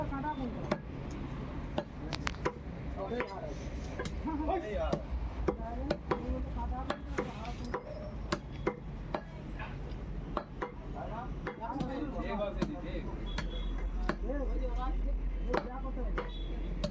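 A butcher chops a whole goat (rodail) carcass into meat at a market stall, heavy cleaver blows landing in an irregular rhythm of sharp knocks, with a voice talking and background bustle throughout.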